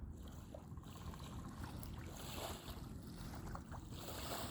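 Small waves wash gently onto a quiet shore in a steady, soft murmur, with light wind noise over the microphone and no talking.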